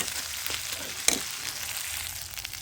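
Spice paste sizzling and frying in a pan for an elephant foot yam curry, a steady broadband hiss with a brief sharp stir or clatter near the middle, close and moderately loud with no talk.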